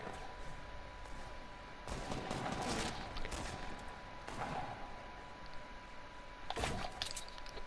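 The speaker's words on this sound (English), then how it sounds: "I hear shots left side" Bursts of rapid gunfire in the video game Fortnite during a 50 versus 50 match, a dense crackling volley swelling and fading several times at mid distance, with brief sharper shots near the end.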